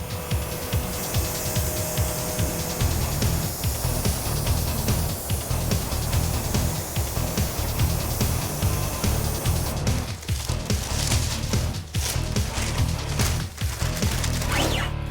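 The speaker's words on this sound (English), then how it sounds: "Now last on is the clear. I put 2 coats on the hood and 1 on the fender." Spray gun laying clear coat onto a car hood and fender, a loud continuous airy hiss with brief pulses and short breaks toward the end as the trigger is released.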